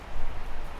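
Rain that began as a drizzle early in the morning now falls steadily, a dense, even hiss of drops on surfaces that stays soft and continuous throughout, with no voices present.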